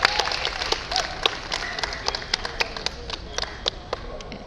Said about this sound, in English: he is getting a nice round of applause